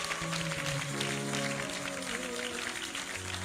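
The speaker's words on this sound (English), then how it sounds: "I said clap your hands." A church congregation clapping hands in a dense, steady patter that blends with sustained keyboard music chords.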